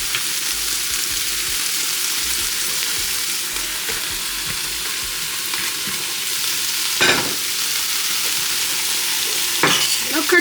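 Curry goat with freshly added carrots fries in a pot, a steady close sizzle under repeated stirring, with a couple of louder scraping knocks from the spoon.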